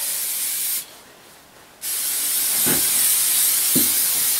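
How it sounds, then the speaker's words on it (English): Brake cleaner sprays from an aerosol can onto a towel in a loud, continuous hiss, broken by one short pause and a couple of faint knocks, with no voice. "I am going to just soak this towel in just a little bit of brake cleaner here"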